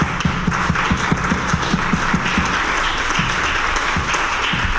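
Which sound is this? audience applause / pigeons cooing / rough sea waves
audience applause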